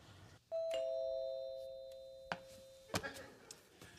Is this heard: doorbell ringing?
yes